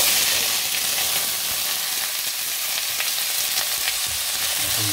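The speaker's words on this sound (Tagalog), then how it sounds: "Igisa na natin to guys. Carrots sa kano muna." Carrots sauté in a hot pan for igado, a dense, even hissing sizzle close by with faint stirring taps throughout, no speech.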